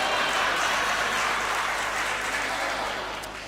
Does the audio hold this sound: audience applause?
yes